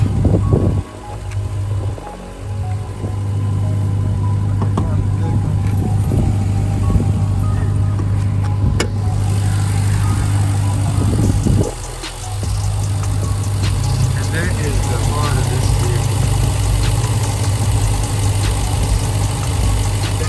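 A 2022 RAM 1500 TRX pickup truck engine idles close by with a loud, steady low rumble, a brief dip and shift in tone partway through, then settles back into an even idle with no talking.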